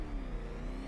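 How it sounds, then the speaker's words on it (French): Batmobile in the video game Batman Arkham Knight rolling in with a steady engine drone and low revving whir, continuous and fairly loud for under a second, with no talk. "faire venir la Batmobile"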